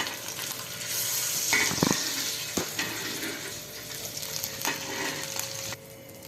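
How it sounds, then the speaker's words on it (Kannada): Fish frying on a hot tawa gives off a steady close sizzle and hiss, with occasional scraping and clatter as pieces are added and pushed aside. "ಈ ಥರ ಒಂದೊಂದೇ ಫಿಶ್ ಹಾಕ್ತಾ ಇರಬೇಕು ಹಾಗೆ ಸೈಡಿಗೆ ಸರಿಸಿ ಮತ್ತೆ ಒಂದು ಫಿಶ್ ಹಾಕಬೇಕು"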